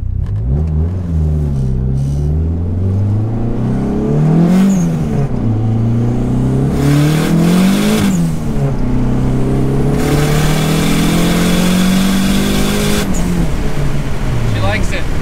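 A car engine just back running after fuel pump repairs revs hard and rises and falls in pitch over a continuous rumble, loud and close for about fifteen seconds.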